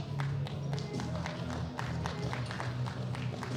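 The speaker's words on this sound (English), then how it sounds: "Ladies and gentlemen, please give all of our lifters a big round of applause" An audience at a world bench press championship claps steadily for the lifters, sharp dense hand claps filling the hall with a low murmur underneath.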